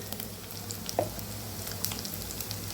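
Chicken fries in a pan as half a tablespoon of garlic paste goes in, a quiet, steady sizzle with a soft stir or plop partway through, close and without talking.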